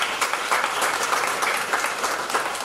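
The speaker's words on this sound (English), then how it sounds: "Let us give her a lusty round of applause." A crowd at an evening community event in Penal, Trinidad applauds steadily, a dense wash of many hands clapping at a fairly loud, even level.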